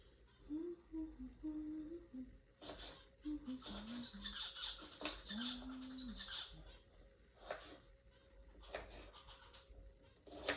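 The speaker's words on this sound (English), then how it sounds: "Those are my finches in the background. They're just chirping away." Pet finches chirp and tweet intermittently in the background, short bright calls scattered across a quiet room.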